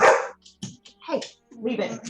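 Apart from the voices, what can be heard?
dog barking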